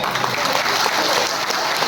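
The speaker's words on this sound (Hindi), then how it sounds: "अब जो लोग सबसे जोर से ताली मार रहे हैं ना," Loud, dense applause from a large crowd at a political rally in Tripura, steady hand-clapping filling the whole stretch without a break.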